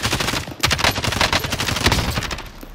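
Dense, rapid automatic gunfire from a Call of Duty: Modern Warfare firefight, with overlapping bursts and single shots cracking loud and close for the whole stretch.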